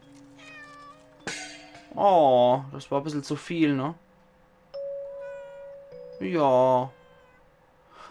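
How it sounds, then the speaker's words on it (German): A cat meows repeatedly in the video game Layers of Fear: Inheritance, several drawn-out, wavering cries alongside a steady tone, with someone briefly talking between them. "ich kann das auch nicht hören, wenn Katze so maunzen"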